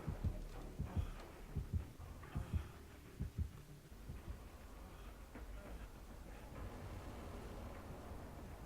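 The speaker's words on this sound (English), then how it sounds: "when you hear the heartbeat it means he's around" A deep, thudding heartbeat signals the approaching killer in the horror video game Dead by Daylight, pulsing in a regular double rhythm before fading into a low droning hum.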